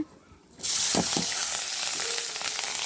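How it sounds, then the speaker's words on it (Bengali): Beans, potatoes, cauliflower, tomato and fish curry sautéing in a pan over a clay stove, a loud steady sizzle that jumps in after a brief quiet moment, with a few stirring scrapes. "তরকারি ভালোভাবে কষিয়ে নিচ্ছি"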